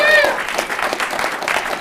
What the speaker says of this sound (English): So let's get a round of applause going.